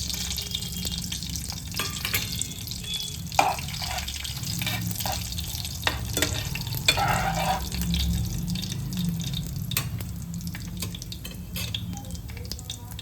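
Whole spices and cumin seeds sizzle in hot oil for a sweet corn curry, a close, continuous crackling fry broken by sharp spatters and a few clinks of stirring.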